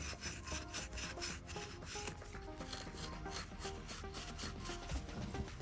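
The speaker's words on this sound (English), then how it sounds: "So just a bit of medium Scotch-Brite." Medium Scotch-Brite pad scrubbing used parts from a barn-find Yamaha RD400 motorcycle, a continuous close rhythmic rubbing and scratching with quick back-and-forth strokes, fairly quiet overall.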